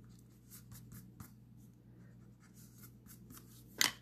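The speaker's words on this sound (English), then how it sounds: "take my pencil eraser and erase those two little pencil marks" A pencil eraser rubs out small pencil marks on paper during card making, heard as quiet, soft scratchy strokes in short bursts, ending with one sharper, louder scrape.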